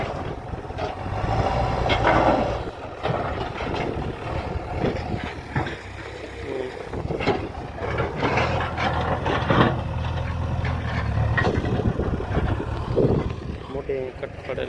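Two JCB excavators and a tractor dig a farm field, giving a steady, fairly loud diesel engine drone that rises and falls throughout, with people talking over it.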